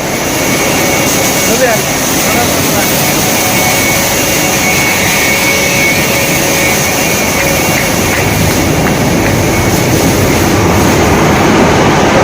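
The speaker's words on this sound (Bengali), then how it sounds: "কম্বল মেশিন" A blanket-making machine runs nonstop in a factory, a loud steady industrial drone with a rattling mechanical texture and faint tonal whine, unchanging from start to finish.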